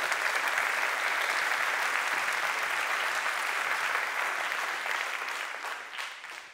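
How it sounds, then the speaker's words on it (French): A festival audience in Le Havre claps for young performers, a long sustained round of applause, fairly distant and even, slowly tapering off at the end with no talk over it. "leur adresser déjà quelques applaudissements aux jeunes"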